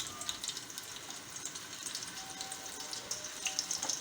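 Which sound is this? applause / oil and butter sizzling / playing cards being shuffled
oil and butter sizzling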